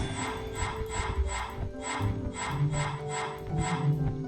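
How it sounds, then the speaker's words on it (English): Wooden hammers striking a wooden beam in a cutscene from the Harry Potter and the Prisoner of Azkaban video game, a steady series of roughly ten evenly spaced hollow knocks over a continuous low rumble. "Each time you'll be shown a cutscene of what is supposed to be wooden hammer hitting a wooden beam"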